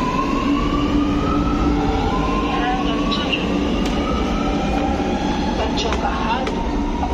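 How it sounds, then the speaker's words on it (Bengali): A metro train at Hazratganj metro station in Lucknow gives a loud, steady rolling roar with rising electric motor whine and squealing tones that carry through the whole stretch. "তো এসে গেছি আমরা হাজরাতগঞ্জ মেট্রোতে, মেট্রো স্টেশনে।"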